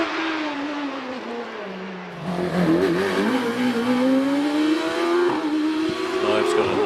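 Empire Wraith race car engine at a hillclimb, revving hard as it pulls away, with a loud, rising engine note that climbs steadily after a quieter start and a voice talking over it.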